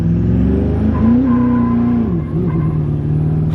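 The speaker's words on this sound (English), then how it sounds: "We just spun the tires so hard." A roughly 16-year-old vehicle accelerates hard with its tires spinning. The engine roars loud and close, its pitch climbing and then dipping.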